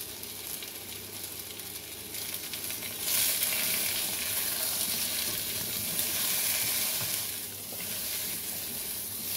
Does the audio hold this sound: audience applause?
no